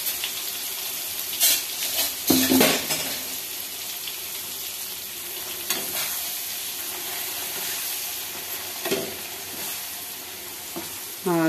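Fish frying in oil with chilli powder, cumin and fenugreek, a loud continuous sizzle with repeated stirring scrapes and clatters against the pan throughout.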